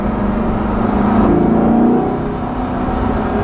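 A 2020 Chevrolet Corvette Stingray 1LT Convertible accelerates on the road, its engine a loud steady drone that swells around the middle before settling back.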